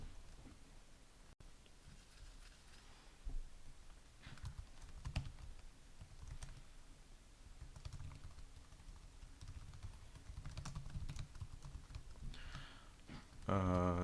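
Keystrokes on a computer keyboard come in quick, irregular bursts with short pauses between them, close and moderately quiet, with faint background hum.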